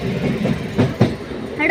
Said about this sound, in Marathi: मस्त मालगाडी आपल्याला क्रॉस केलं आहे.